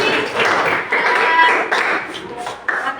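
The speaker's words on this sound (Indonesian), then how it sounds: "Oh iya, tepuk tangan dulu." A high school history class claps hands in the classroom, a short, close patter of clapping with a few taps and voices mixed in.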